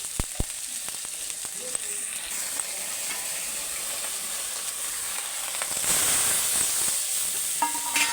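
Spice paste cooked down with fried onion and tomato in a pan for an oil koi fish curry, a continuous sizzle and hiss with occasional scrapes of stirring, growing louder and steamier when splashed midway.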